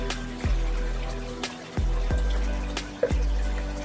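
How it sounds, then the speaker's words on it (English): Water is added to KÖSTER Waterstop fast-setting plug and repair mortar powder, a close, steady trickle and splash with a few sharp drips and knocks spaced through the pour. "adding a bit of water"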